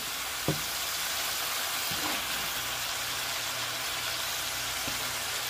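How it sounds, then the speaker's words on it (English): Bacon frying in a pan, a steady bright sizzle throughout with a few soft clicks and knocks from the pan, no talk. "So we're going to fry this bacon up first"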